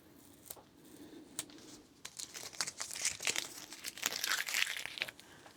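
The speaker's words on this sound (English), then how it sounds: "You don't want to hear the scrunching," A thin sheet of delicate walnut wood veneer, freshly cut on a Cricut machine, being scrunched and crinkled by hand, giving soft, close crackling with brief crisp snaps that grow busier toward the end.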